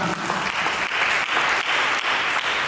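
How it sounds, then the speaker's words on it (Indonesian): A church congregation applauds during an Indonesian-language sermon, close, loud, dense clapping with a slightly pulsing rhythm that continues unbroken through the clip. "Dengan tepuk tangan"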